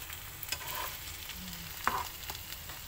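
Gourami fish coated in spice paste frying in a pan for Padang-style gulai, turned over partway. A soft, steady sizzle with a few light scrapes and clinks, quiet and with no talking.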